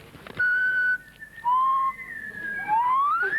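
Three clear whistle tones from a whistling keyring, two steady pitches and then a rising sweep, sound close by with short gaps between them.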